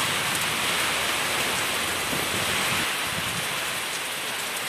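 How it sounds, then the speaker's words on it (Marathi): Steady rain falling in the afternoon with wind picking up, a dense continuous hiss of drops on surfaces, moderately loud and unbroken, with no voices. "आणि पाऊस पण यायला लागलाय."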